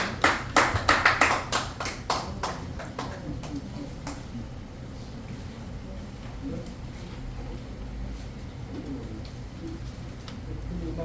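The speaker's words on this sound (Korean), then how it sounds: "다시 한번 큰 박수." Audience applause at an event bursts out in dense, lively clapping and then thins into sparse scattered claps over a low room murmur.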